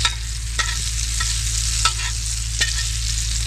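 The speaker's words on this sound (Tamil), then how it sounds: "மீன் நல்லா வெந்துக்கிட்டு இருக்குது" Fish sizzles loudly in a pan over an outdoor cooking fire, a steady frying hiss broken by a few soft scrapes of stirring, close up and with no voices.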